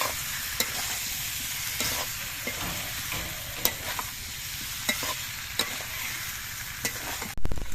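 Boiled taro sizzles and fries steadily in a hot pan while being stirred, with a continuous crackle broken by occasional sharp scrapes and clicks of the spatula, close and fairly loud, no voices.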